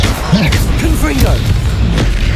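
Confringo blasting spell impacts in Hogwarts Legacy land as loud thuds and pops, with whooshing effects and game voices mixed in around them.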